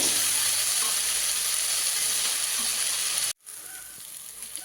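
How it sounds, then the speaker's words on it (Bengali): Fresh wild water spinach (kalmi greens) stirred and dry-fried in a pan until the water cooks off, giving a steady close hiss of sizzling with scraping stir sounds; it cuts out briefly, then returns as a quieter sizzle. "শাকটাকে এবার নাড়াচাড়া করবো বারে যে একদম শুকনো শুকনো করে নেবো"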